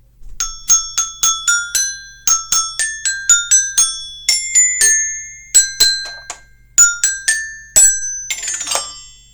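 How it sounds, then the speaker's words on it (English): Xylophone playing the Little Einsteins theme song with one note improvised, a quick run of bright struck bars with a clear ringing decay, close and loud, ending in a brief clattering roll of notes. "I don't have a B on my xylophone, so I have to improvise that note."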